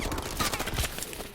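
Rapid gunfire from the NA-45 in Call of Duty Advanced Warfare, a dense burst of repeated shots across the whole moment, loud and close with game effects layered underneath.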